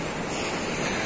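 Clear sea surf breaks on an empty beach at General Nakar, Quezon, a loud continuous wash of waves with no voices.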